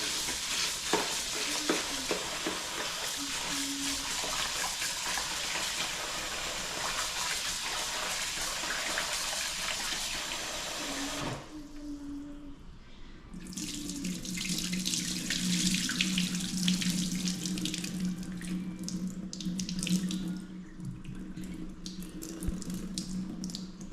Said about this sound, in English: we're just going to wash the rice.